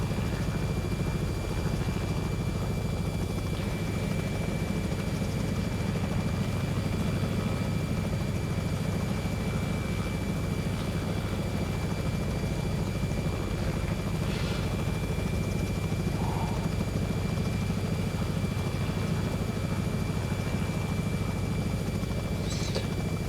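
A Robinson R66 helicopter in the X-Plane 11 flight simulator gives a steady, unbroken engine and rotor drone with a faint high whine on top, loud and constant, with no talking.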